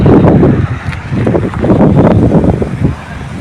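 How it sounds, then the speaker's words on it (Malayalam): Strong wind gusts outdoors beside a national highway near Punganur, buffeting the microphone with loud, rough, fluctuating rumbling throughout. "കാറ്റടിക്കുന്നുണ്ട്"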